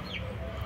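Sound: chickens and roosters clucking

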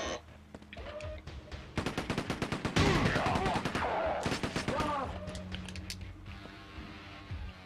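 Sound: gunfire from a weapon in the video game Quake 2

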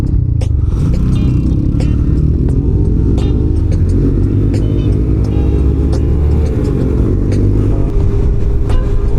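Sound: motorcycle riding

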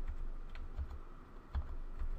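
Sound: typing on a computer keyboard, pressing enter

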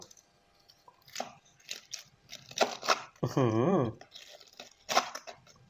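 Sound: biting crispy fried chicken batter

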